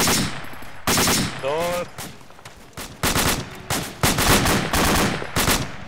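Machine gun fire in the video game Arma 2: rapid, loud bursts of automatic shots repeating in quick succession, with voices talking between and over the volleys.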